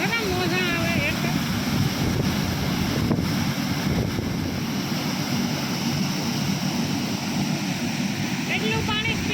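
Waves splash and roll in a steady, loud wash of water that is close by, heavy with wind buffeting on the microphone, and a voice is briefly heard near the start and end.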